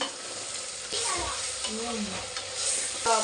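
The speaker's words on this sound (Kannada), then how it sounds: "ಟೊಮೊಟೊ ಆ್ಯಡ್ ಮಾಡ್ತಿದ್ದೀನಿ." Tomatoes are tossed into a hot frying pan with bottle gourd and stirred, giving a brief crackling sizzle with a spoon scraping the pan, close by, and faint voices behind.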